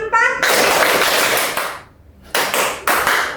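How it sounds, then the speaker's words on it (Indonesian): Children in a classroom clap in a counting clap game led by a teacher, with a voice at the start and then bursts of loud, close group clapping broken by a short pause. "Tepuk 1, tepuk 2, tepuk 3"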